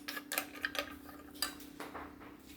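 A spoon clinks and scrapes against a bowl in quick, irregular strokes while wet dog food is mixed with a little water, close up and fairly quiet.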